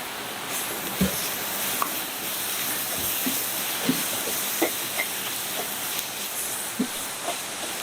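Onions sautéing in hot oil for Pongal give a steady close sizzling hiss, broken by scattered soft clicks and scrapes of stirring.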